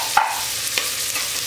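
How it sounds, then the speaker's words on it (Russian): Spices sizzle in hot oil with vegetables for a pumpkin, orange and cream soup with ginger, with a steady soft frying hiss and a couple of light stirring clicks. "Когда мы специи обжариваем в масле с овощами"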